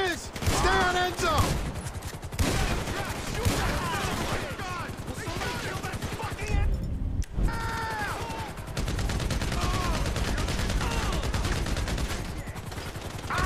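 Rapid gunfire from a helicopter in Grand Theft Auto V rattles in dense bursts, with occasional pauses, under excited voices talking throughout.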